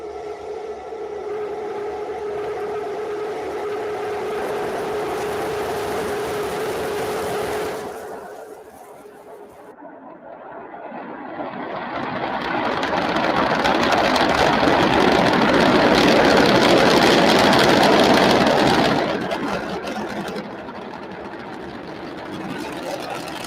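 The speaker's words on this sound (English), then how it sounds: "all three Raptor engines at power" Three Raptor engines on a SpaceX Starship test launch roar in a broad, distant rumble: a steady tone first, then a brief dip, then a swelling roar that peaks and eases off, with no clear talking.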